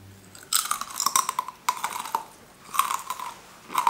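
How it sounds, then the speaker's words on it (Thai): Crispy beetroot vegetable chips being chewed close to the mic, several bursts of loud crunching separated by short pauses, with no talk over them. "พอเคี้ยวแบบละเอียดละเอียดก็คือกรอบแล้วก็แบบมีรสชาติของผักนิดนึง"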